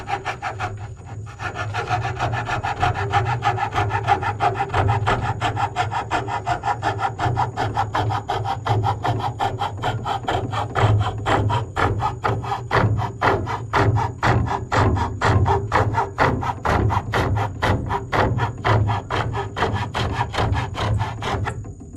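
Hand coping of wood trim with a coping saw, the workpiece clamped solid: rapid, rhythmic rasping strokes that speed up and continue steadily at close range, with no talking.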